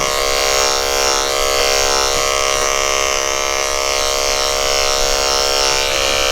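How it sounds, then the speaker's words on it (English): Electric dog clippers fitted with a number 4 snap-on comb buzz steadily and loudly close up while trimming over the ear of a Cavalier King Charles Spaniel, one continuous hum with slight wavering. "I'm gonna go over top of the ear with the snap-on comb"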